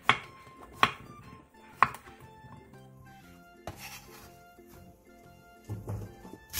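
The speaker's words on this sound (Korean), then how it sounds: "둥근 호박 2분의 1개를 큼직하게 잘라주세요." A knife chops a round zucchini into large chunks on a cutting board in a home kitchen, with several sharp, separate knocks spaced irregularly and quiet handling noise between them, close up and without talk.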